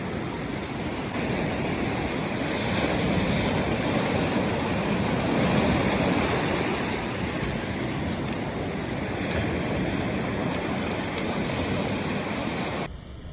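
Stormy sea surf at Chornomorsk on a foggy day, a steady loud roar of breaking waves and wind with no pauses, running unbroken for about thirteen seconds before cutting off.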